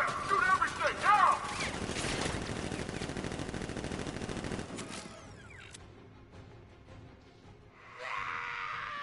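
Rapid automatic gunfire in the video game Arkham Knight, a fast rattling stream of shots over the first half that fades into quieter mechanical clatter and ambience, with a brief louder swell near the end.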